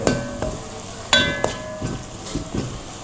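Cashew paste frying in a pan for Kerala-style pepper chicken, with a steady sizzle broken by several sharp clinks and scrapes of a spoon against the pan, close by and moderately loud.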